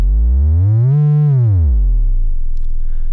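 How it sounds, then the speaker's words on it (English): A single smooth synth tone from a Make Noise 0-Coast oscillator that glides up in pitch, holds, then slides back down before fading out, loud and alone. "You've got a fundamental that sounds like this."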